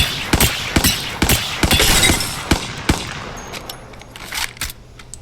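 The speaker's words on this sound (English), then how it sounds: "You can actually switch it to single fire, so it only shoots one bullet at a time." Single shots from a weapon switched to single-fire mode in the Apex Legends video game, a string of sharp, close reports at an uneven pace with brief gaps, the shots thinning out toward the end.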